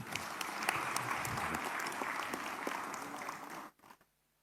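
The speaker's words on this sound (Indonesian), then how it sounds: "Boleh tepuk tangan dong." Applause in an Indonesian parliamentary commission meeting after a bill revision is approved, a dense, even round of clapping from the room that stops abruptly near the end.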